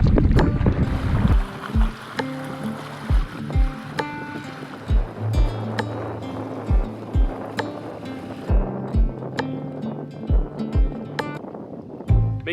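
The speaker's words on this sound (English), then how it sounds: "it's a headwind, but honestly, this is a great thing because it cools us down" Wind noise buffeting a canoe paddled into a headwind on Barrens Lake, a steady rushing bed with regular knocking paddle strokes and water splashes repeating about once a second, close and fairly loud.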